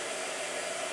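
A blow dryer runs steadily at close range, a loud, even whoosh of blown air with a faint motor hum, filling the whole second without pause or voices.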